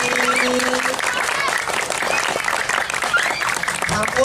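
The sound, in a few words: audience applause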